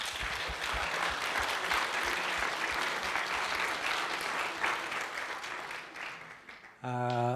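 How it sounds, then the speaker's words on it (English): Loud, sustained applause from a large audience honouring students at a data project challenge event, steady dense clapping that fades briefly before a voice begins speaking at the end. "I think it requires congratulations and big applause"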